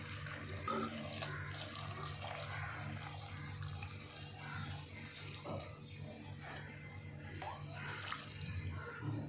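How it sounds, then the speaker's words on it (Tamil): Water pours in a steady, low splashing stream into a cooking pot, quiet and continuous throughout. "எவ்வளோ தண்ணி வேணுமோ அவ்வளோ தண்ணி ஊற்றிக்கணும்"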